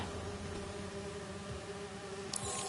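Bees buzz in a laboratory research project in the Spider-Man 2 video game, a dense, continuous droning hum at moderate loudness with no speech over it.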